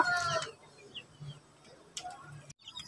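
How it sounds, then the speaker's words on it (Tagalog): Rhode Island Red chickens feeding make soft clucks and a few quiet pecking taps close by, with a brief louder call at the start. "Ang lakas nilang kumain mga Rhode Island Red"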